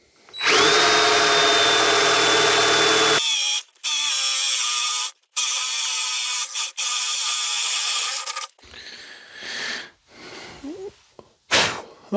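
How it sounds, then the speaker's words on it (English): A power drill bores a hole through a Masonite Cheyenne interior door, whining loudly in long continuous runs broken by short pauses, then shorter bursts and clattering handling noises toward the end. "Okay, then we got that hole drilled out."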